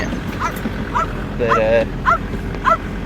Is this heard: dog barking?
yes